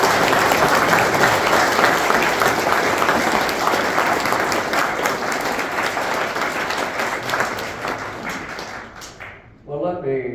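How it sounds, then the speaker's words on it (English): An audience gives loud, steady applause that lasts for several seconds, then fades near the end as a voice begins to speak. "I would really like a round of applause for Will."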